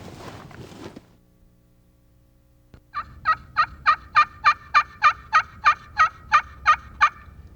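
A turkey gobbles in spring woods, a long rapid rattling burst of about fifteen even pulses, loud and fairly close, after a brief stretch of faint rustling and near silence.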